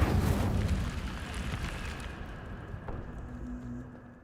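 An Incendio fire spell cast in Hogwarts Legacy, a loud whooshing burst of flame that roars at once and then slowly fades into a low rumble and quiet hiss.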